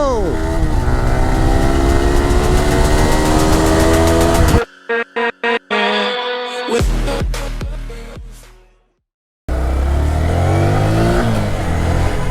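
A sports motorcycle engine revs hard and loud, then cuts to a series of sharp bursts and a falling whine before a pause and another loud, steady high-revving roar.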